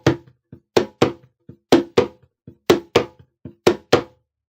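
Sharp, muffled hand slaps on a djembe, played in a steady repeating pattern with quieter ghost strokes between the louder hits, close and clear with no voices.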